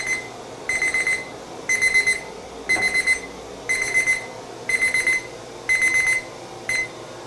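A digital timer alarm beeps during powder coat curing, sounding in regular bursts of rapid electronic beeps separated by short pauses, loud and close with no talk.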